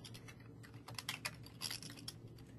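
Keys clatter on a computer keyboard as an IP address is typed in, with irregular bursts of close, crisp taps and no voices.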